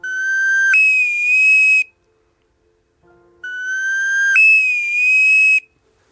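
Human whistling imitating migratory shorebird calls, two loud clear whistled phrases each stepping up from a lower note to a higher sustained tone, separated by a short silence.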